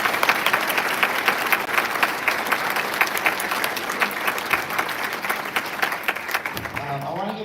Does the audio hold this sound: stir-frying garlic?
no